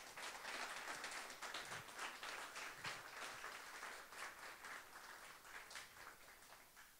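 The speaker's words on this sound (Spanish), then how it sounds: "Así que pido para ella un fuerte aplauso." Audience at a Spanish-language tertulia gives steady, fairly distant applause, a continuous even patter of many hands that holds for several seconds and slowly fades.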